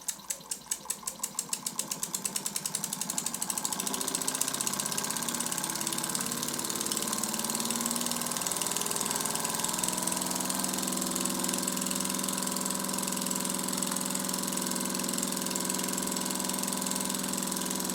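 A Super Burnac Vulcan live steam engine, fired by a burner under its boiler, starts with quick regular chuffs that speed up into a continuous, even running beat, close and steady throughout with no voices.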